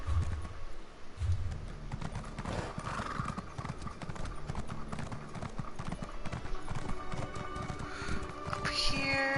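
A horse named Speed clip-clops with steady hoof beats at close range, joined by a brief whinny, while someone talks quietly now and then.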